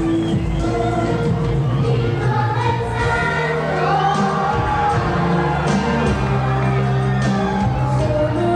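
Wrestling arena crowd in Celaya, Guanajuato, applauding and cheering loudly and continuously for a masked luchador's entrance, with dense shouts and whoops throughout and an announcer's amplified voice carrying over the din.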